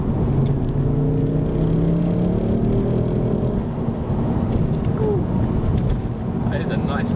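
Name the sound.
Ford Focus ST engine noise while accelerating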